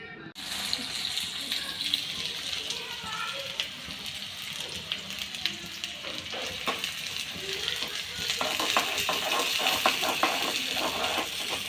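Onion and tomato frying for egg bhurji, a steady loud sizzle with stirring clatter and brief tap-water sounds, continuous throughout and alone without talk.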